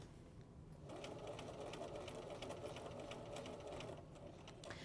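A sewing machine runs steadily, close and continuous, stitching down through layers of fabric for a wrap skirt, with no talking.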